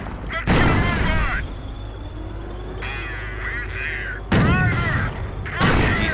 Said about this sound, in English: That was a direct hit, but it did little damage because of the Panzer's heavy armor